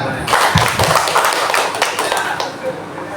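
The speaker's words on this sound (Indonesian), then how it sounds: "Tepuk." Audience at a student community-service workshop presentation in an Indonesian village claps in a short burst of taps and claps, with voices talking over it throughout.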